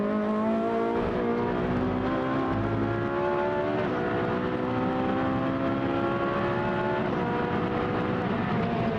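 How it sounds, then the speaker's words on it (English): An onboard Trofeo Pirelli race car engine at Brno in 2013 drones loudly and steadily, with its pitch climbing and then dropping at each gearbox shift, alone with no voices. "Great to hear that power plant gearbox at work there"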